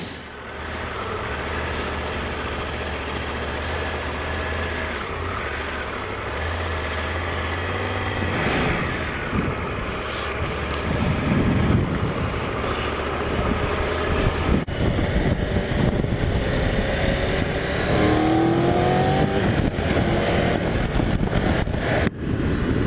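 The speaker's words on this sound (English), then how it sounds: "That's a nice sounding motor. Sounds really grunty." A Triumph Tiger 1200 GT Pro motorcycle engine idles with a low, steady rumble. It then revs several times, growing louder and rougher, with rising pitch sweeps near the end. The sound is close and continuous, with no talking.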